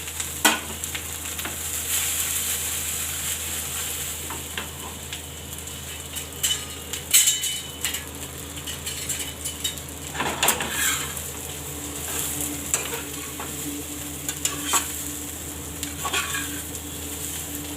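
Leftover cooked rice snack stir-frying in a pan with popped mustard seeds, white sesame and curry leaves, a steady close sizzle broken by scraping stirs and sharp pops throughout.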